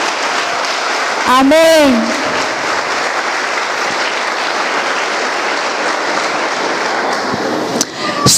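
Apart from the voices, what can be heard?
church congregation applauding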